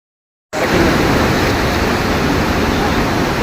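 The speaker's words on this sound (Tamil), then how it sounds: "இருபது ஆண்டுகளுக்கு பிறகு நேற்று அருவி மற்றும் கோவிலில் வெள்ளப்பெருக்கு ஏற்பட்டுள்ளது" The Panchalingam waterfall, beside a temple, is in flood after heavy rain. After half a second of silence, a loud, unbroken roar of rushing water fills the rest of the clip, with no talking.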